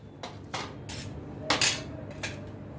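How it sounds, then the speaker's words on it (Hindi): A few soft metallic scrapes and clinks come from a spoon in a pan as fried boondi is tipped in and mixed into a murmura chivda, spaced irregularly over low background hiss. "अभी इसमें मैं ये बूंदी फ्राई जो मैंने अभी किया था वो डालती हूँ"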